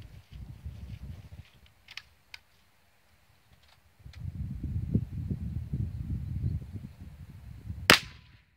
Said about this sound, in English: Now I'm gonna shoot the big one up in the tree.